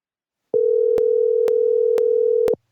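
A steady telephone ringback tone of an outgoing call sounds continuously for about two seconds, clear and close with no voices.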